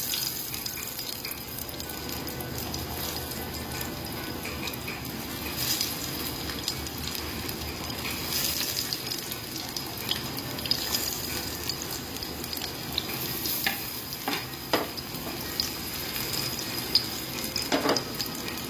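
Goan mackerel fish cutlets fry in hot oil in a pan, a long low steady crackle and hiss with scattered pops, fairly quiet throughout.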